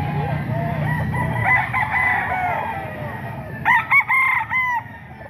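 Rooster crowing nearby, two bursts of cock-a-doodle-doo with a steady low hum underneath at first, the second crow ending in choppy broken notes.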